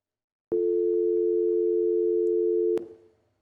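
A steady telephone dial tone hums alone for about two seconds after a call drops, ending with a click and a brief fading tail.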